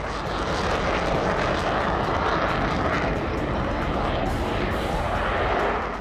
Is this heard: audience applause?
no